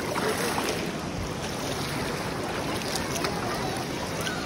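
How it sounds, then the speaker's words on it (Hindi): River water flows beneath a riverside charpai at Neelum Point in Kashmir, a steady, close rushing wash with wind-like hiss that stays even throughout. "तो नीचे से पानी गुजर रहा है थोड़ा थोड़ा"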